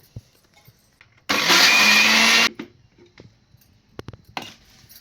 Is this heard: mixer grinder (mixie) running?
yes